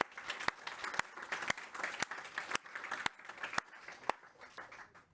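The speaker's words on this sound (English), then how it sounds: "a round of applause for that fantastic demo" A crowd at a product launch event applauds a live demo steadily throughout, a dense wash of many hands clapping at moderate distance, with a few louder individual claps standing out.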